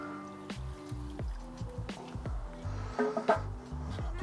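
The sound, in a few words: milk poured into thickening cheese sauce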